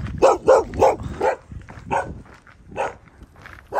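Chained dogs on a mountain hiking route across the volcanic Canary Islands bark loudly and close by, a quick run of three or four barks followed by scattered, sharper yaps.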